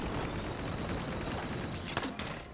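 Gunfire in the video game Split Fiction rattles as a dense, continuous volley with a few sharper shots near the end, loud and steady with nobody talking over it.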